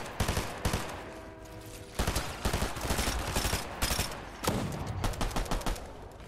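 Gunfire in a Fortnite solo ranked match, loud repeated bursts of rapid shots spraying in clusters throughout, with brief gaps between volleys.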